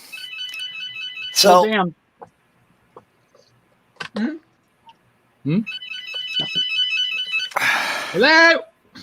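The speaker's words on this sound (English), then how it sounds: "Yeah, that is my phone, which only rings for spam calls." Motorola mobile phone ringtone chirps in two loud electronic bursts separated by a pause, each followed by people talking over and after it.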